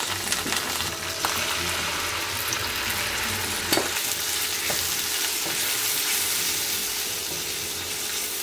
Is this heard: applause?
no